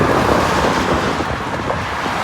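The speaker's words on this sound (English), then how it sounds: "It's pretty loud because of the cars" Steady roar of cars rumbling across a bridge over water, a broad continuous wash of noise with some wind buffeting, loud and close throughout.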